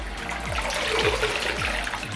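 Curly hair being dunked into a bowl of water gives a close, continuous sloshing and trickling with splashy gurgles throughout, without speech.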